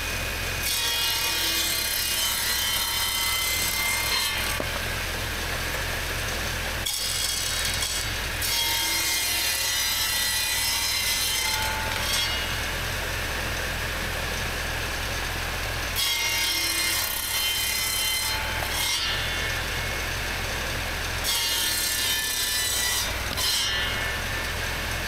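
A saw on an 80-year-old Allis Chalmers tractor rasps steadily through firewood in long repeated bursts, loud and close, with brief pauses between cutting passes.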